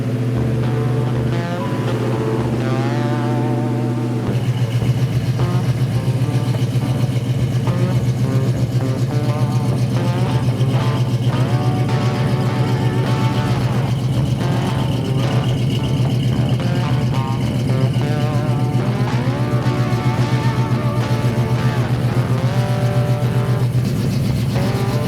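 A 1979 Oldsmobile Cutlass Supreme engine drones steadily and loudly from the inside, a constant low hum throughout, starting a little quieter before settling into a stronger sustained rumble.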